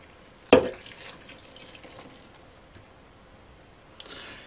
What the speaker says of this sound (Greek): Θα βάλω το υπόλοιπο νερό.